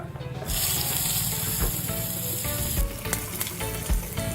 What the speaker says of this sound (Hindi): तो तड़का में जाता है राई, जीरा, हिंग एंड कड़ी पत्ता